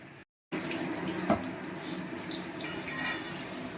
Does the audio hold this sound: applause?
no